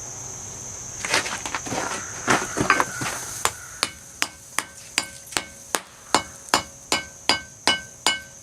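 A hammer strikes steel on an anvil while forging a sen scraper, starting with irregular clustered blows and settling into a steady run of sharp, ringing metallic hits about twice a second, close and alone.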